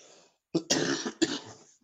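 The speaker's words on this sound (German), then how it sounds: "Dieser Husten." Two or three harsh, throaty coughs in quick succession, close and distinct, with a short silence before them.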